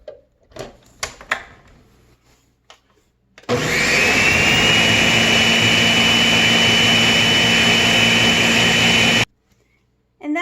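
An electric blender roars loudly and steadily for several seconds, blending blue milk with added whole milk, after a few quiet knocks and handling sounds, then cuts off abruptly.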